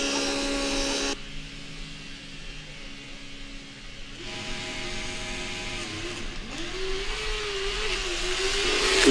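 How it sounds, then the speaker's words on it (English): Formula Student combustion race car at a trackside acceleration event, its engine held at full throttle while rolling toward the start line, a steady high-pitched droning whine that shifts pitch and swells louder near the end. "the driver is basically full throttle, rolling to the start line"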